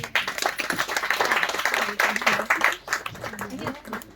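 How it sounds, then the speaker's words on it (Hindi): Audience clapping in welcome of a guest at a music event, a lively burst of hand claps with uneven rhythm and a voice briefly audible amid it. "हम लोग तालियों से उनका स्वागत करें।"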